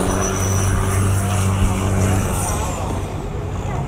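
Steady, loud engine drone of a river boat in Bangkok, a continuous low rumble with a hissing wash of water and wind, heard close and unbroken throughout.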